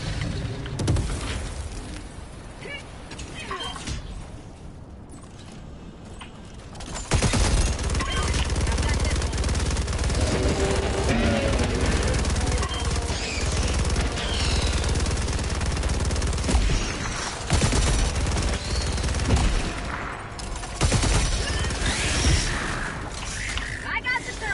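Rapid gunfire and booming blasts in a shooter video game, dense and continuous for most of the stretch, louder after the first few seconds, with players talking over it.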